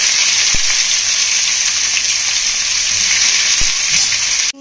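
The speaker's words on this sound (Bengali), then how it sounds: "তেলও গরম হয়ে গেছে, বেরেস্তাটা করে নিই" Onions frying in hot oil for beresta give a steady, loud sizzle that holds evenly from start to finish, with a couple of brief utensil taps and no voices.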